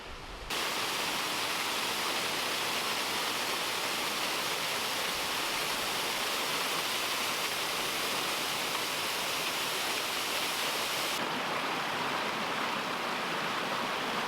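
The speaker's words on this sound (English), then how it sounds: "It was a waterfall, many tiered, and you could kind of walk up behind it and like see the river where the water was coming from" A many-tiered waterfall in a Scottish nature reserve roars steadily and loudly, a dense unbroken rush of falling water that holds at one level throughout with no voices.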